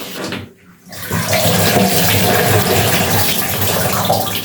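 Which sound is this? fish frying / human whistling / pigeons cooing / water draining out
water draining out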